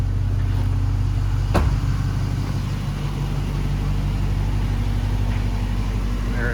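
A 2016 Dodge Challenger R/T Shaker idles steadily, its deep, even engine rumble heard from outside the car with a brief sharp click partway through and no talking.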